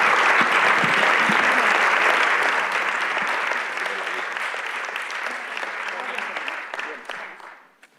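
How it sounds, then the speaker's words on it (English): Audience applause at the close of a roundtable at a food safety and nutrition commemorative conference, sustained broad clapping that stays steady for several seconds, then thins and fades out near the end. "Round of applause, please, to my two peers."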